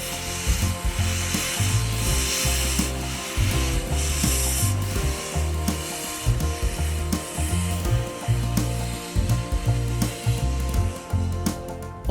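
An S160 steam locomotive runs on the Churnet Valley Railway, giving a dense, rough rumble with irregular pulsing chuffs and hiss. It sounds loud and fairly close, with no talk over it.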